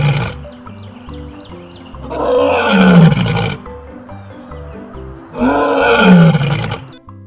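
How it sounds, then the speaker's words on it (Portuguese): A lion roars in two long, powerful bouts, each a deep rising and falling bellow lasting over a second, separated by quieter grunting breaths; loud and close, with no talk. "Uma curiosidade do leão é por conta de seu rugido."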